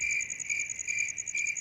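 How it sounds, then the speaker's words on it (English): Crickets chirp in a recording played back during a livestream, a steady high trilling pulse that continues alone at a constant level. "Okay, that's enough crickets."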